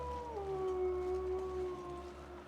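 Wolves in a video game let out a long, fairly faint howl that slides down in pitch and then holds steady over a low background hum.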